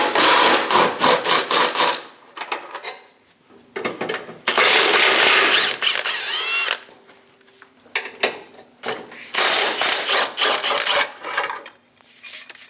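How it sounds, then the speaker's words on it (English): A 15mm socket on a ratchet backs out bumper bracket bolts on a 2003-2025 Chevrolet Express 2500, giving bursts of rapid clicking and metallic rasping in several close, loud spells separated by pauses. "We're going to remove the bolts."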